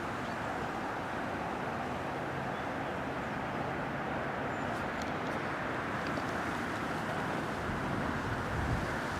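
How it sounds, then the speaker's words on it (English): Steady broadband wind rushes and buffets throughout at a carp fishing lake, dense and continuous, with no voices. "It's too windy for this."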